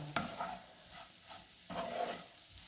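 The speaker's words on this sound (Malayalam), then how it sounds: "എല്ലാം കൂടി ഒന്ന് ഒന്നും കൂടി നമുക്ക് മിക്സ് ചെയ്യാം" Mango pickle with asafoetida stirred in a pan, quiet close scraping and clattering of a spoon over a low sizzle, a few distinct strokes across a short stretch, no voices.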